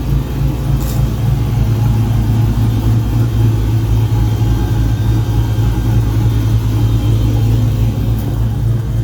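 A 2004 Chevrolet Silverado pickup, a daily work truck built into a hot rod, runs loud and close with a steady, heavy low rumble throughout and no clear rise in revs.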